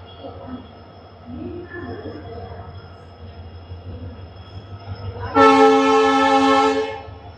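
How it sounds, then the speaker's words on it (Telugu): A diesel locomotive at Bikaner railway station sounds a loud, sustained horn blast of about two seconds near the end, after a steady low engine rumble and station murmur. "Diesel loco."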